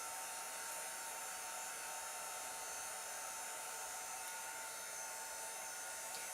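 A hair dryer runs steadily at close range to dry a chalk craft project, giving a continuous, even whooshing roar with no pauses and no one talking.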